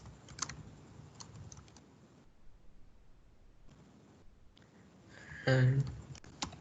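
Keys clatter on a computer keyboard as text is entered in Microsoft Word, in short scattered bursts with quiet gaps and a louder cluster near the end, and a voice speaks briefly.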